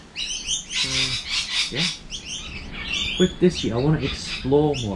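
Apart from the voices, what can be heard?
birds chirping outdoors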